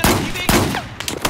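Machine gun fire in the combat video game Battlefield 4, sounding as several loud bursts of shots spread across a brief moment.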